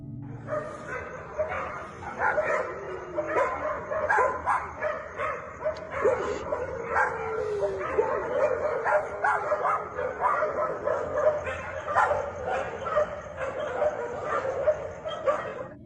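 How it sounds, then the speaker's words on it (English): Several dogs bark and yip almost continuously, a dense overlapping chorus with some whimpering, fairly close and loud throughout. "He heard dogs in the area barking non-stop."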